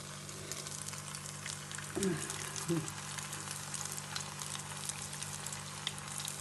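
Paneer jalebis frying in oil in a pan, giving a steady low sizzle with a couple of brief louder bubbling bursts near the start, fairly quiet and even throughout with no talk.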